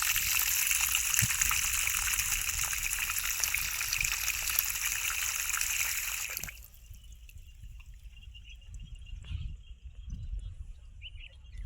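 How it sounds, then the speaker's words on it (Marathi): Water rushes steadily from a valve fitted on a reinforced concrete (RCC) well for about six seconds, then cuts off abruptly, leaving a quiet outdoor background with faint bird calls. "जर आपल्याला पाणी घ्यायचं असलं तर आपण असं पाणी पण घेऊ शकतो"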